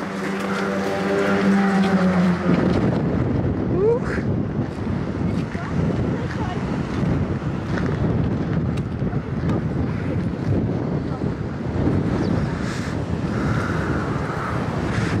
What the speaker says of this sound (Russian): Ты посмотри, какие волны сильные у моря, сынок. Смотри, как волнуется море, видишь?